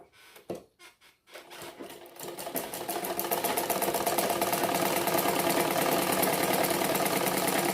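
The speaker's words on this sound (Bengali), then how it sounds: "দুই সুতা দূরে আর একটা সেলাই করছি" A sewing machine stitches a second seam two threads apart on the front panel of a bra-cut blouse. It opens with a few short stops and starts, then settles into a steady, rapid, close whir, with no talk.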